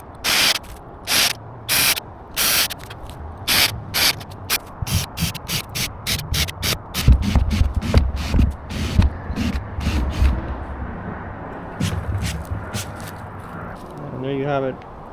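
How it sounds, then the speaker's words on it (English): Drill boring holes into a boat transom during restoration, repeated short bursts of whining drilling separated by pauses, with a spoken voice between bursts. "So let's go ahead and start drilling."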